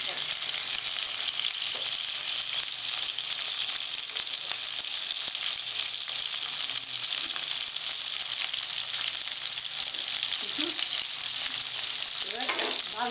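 Chhanar dalna frying in a pan, a steady broadband sizzle holding throughout with occasional faint clinks and stirs near the end, no talk over it.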